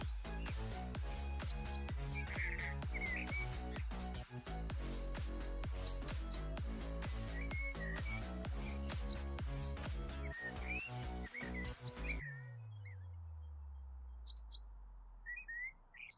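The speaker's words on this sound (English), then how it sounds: "Is the bird noise annoying?" Birds chirp and call repeatedly in bright, scattered tweets over a steady tonal hum and rapid clicking, which cut off abruptly near the end, leaving only a few chirps and a low falling tone.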